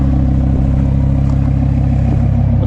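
A Lamborghini with an LNB exhaust revs loud and close, a steady deep engine drone holding throughout with slight clatter and no talking.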